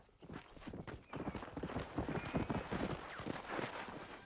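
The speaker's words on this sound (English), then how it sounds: "that's my other horse" Horse hooves in Red Dead Redemption, a quick clip-clop of galloping hoofbeats that swells in and stays close and moderately loud, with a brief whinny-like cry near the start.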